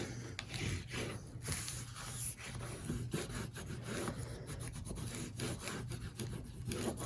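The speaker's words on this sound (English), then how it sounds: "Give it a good burnish." A tool is rubbed back and forth over scored paper for a mini album, giving close, dry scraping strokes in a quick, uneven rhythm that run steadily throughout at a soft level.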